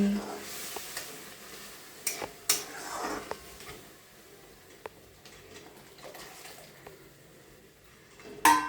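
Paneer, boiled tomatoes and peas being stirred in a pan for a spinach curry, with soft, intermittent scraping and a few sharp clinks of the utensil against the pan over a quiet background.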